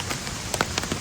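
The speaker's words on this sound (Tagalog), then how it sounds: "dinagdagan pa ng ulan" Rain falling steadily at a waterfall area on Taipei's North Coast in cool weather, a dense continuous hiss with a few sharper drop patters standing out, fairly close and alone without voices.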